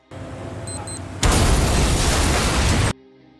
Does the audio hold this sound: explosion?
yes